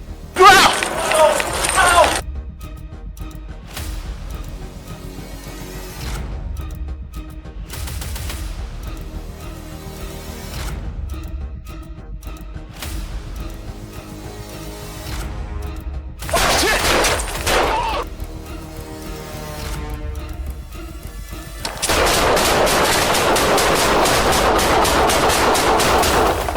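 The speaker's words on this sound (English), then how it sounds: "You're hit! Yeah, shots fired!" Gunfire erupts during a police confrontation with a suspect, sharp loud bursts cutting through frantic shouting, with a dense sustained barrage near the end.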